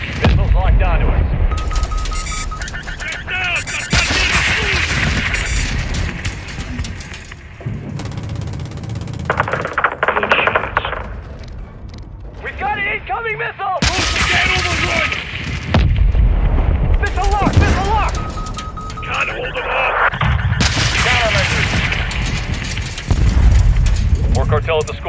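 Modern Warfare 2 campaign gameplay, with heavy gunfire bursts and deep explosions booming through loud combat. Radio chatter and voices call out under the dense, intermittent battle noise.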